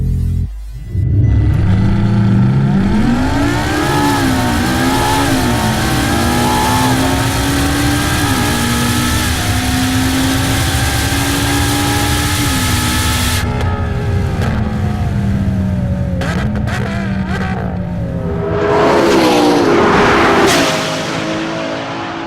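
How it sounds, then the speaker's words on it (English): LaFerrari, McLaren P1 and Porsche 918 hypercar engines in a three-way drag race, loud sustained overlapping engine roars rising in pitch through gear changes, then easing off before a final surge. "here's what a three-way drag race would look like between the LaFerrari P1 and"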